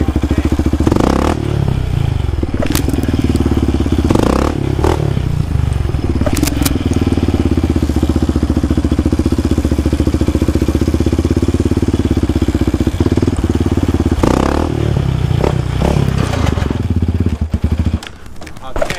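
A Yamaha Raptor 70 quad bike engine revs hard through wheelie attempts, a loud close buzzing drone with surging throttle blips and clunks, cutting out near the end while people talk over it.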